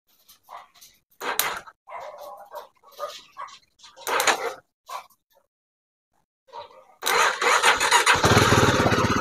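A Zontes motorcycle left standing for five months sputters through a few short bursts, then catches and runs loudly and steadily at the end, with a dog barking and whimpering in between.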